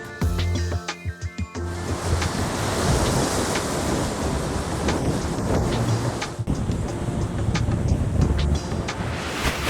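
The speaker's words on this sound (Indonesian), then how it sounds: "hempasan ombak yang sangat kuat menghantam karang bebatuan di sekitar Travelers" Powerful ocean waves crash against the rocky cliffs at Devil's Tears on Nusa Lembongan, making a loud, continuous roar of surf with wind buffeting the microphone. A few brief bumps come at the very start.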